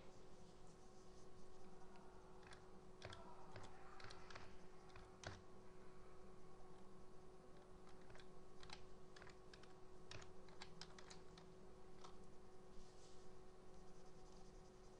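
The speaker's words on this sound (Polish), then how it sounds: "Wpisujemy swój adres strony." Someone types a website address on a computer keyboard, a quiet, irregular patter of key clicks in short bursts over a steady low electrical hum, with no talking.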